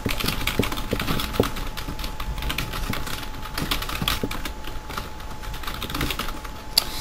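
Rapid clicking keystrokes on a computer keyboard run steadily, close and fairly loud, as text is typed into a book in Minecraft. No one speaks.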